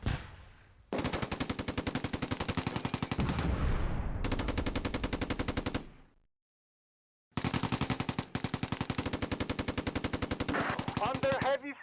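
Machine gun fire in the video game Close Combat rattles in long, rapid bursts, loud and dense, broken by a brief silent gap before firing resumes.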